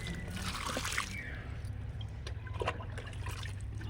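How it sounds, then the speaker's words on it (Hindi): Water trickling and splashing as it is poured into soil-filled grow bags on a rooftop for growing okra, a steady close pour with a louder gush at the start. "जब ये बैग भर गए तो इसमें हम पानी डाले दे रहे हैं, जितना पानी जाना है मिट्टी सोख लेगी"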